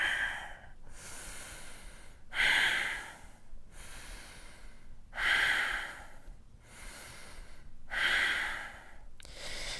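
Slow, deep breaths during a live yoga class, long inhales and exhales alternating in a steady rhythm of about three full cycles, close and fairly loud, with no talking over them.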